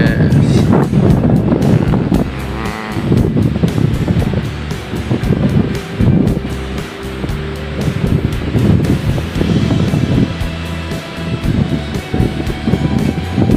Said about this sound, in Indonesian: semakin malam semakin ganas nih ombaknya, sampai naik ke sini